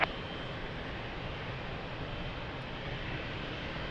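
Airplane on its takeoff run from runway 02 at Lisbon Airport, a steady broadband engine roar holding at an even level throughout, fairly distant and with no talk.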